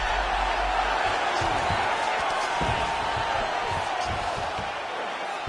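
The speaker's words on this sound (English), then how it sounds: "So the crowd absolutely loving it." A UFC 5 video game arena crowd cheers and roars steadily throughout, with a commentator's voice over it.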